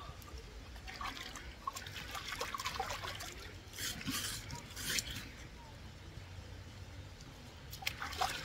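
Water trickles and splashes softly as someone bathes in a stream in rural Canada, with faint, irregular pouring and dripping, light rubbing sounds and brief sharper splashes.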